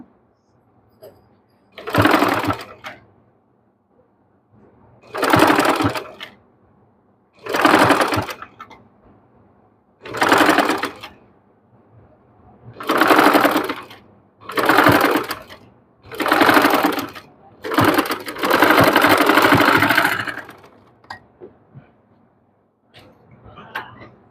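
Sewing machine stitching lace onto a dress neckline, running in about eight loud bursts of a few seconds each with brief pauses between, the last burst longest, close up and with no talk.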